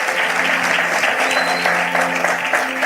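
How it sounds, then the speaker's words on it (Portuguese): Church congregation claps together during a sermon, a loud, dense wash of applause sustained throughout, with a faint musical tone humming underneath. "Uma salva de palmas pela vida do nosso sonoplasta."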